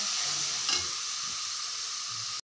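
Tomatoes frying with spices and onion in a pan, a continuous close hiss and sizzle with a brief stir partway through, then cutting off abruptly.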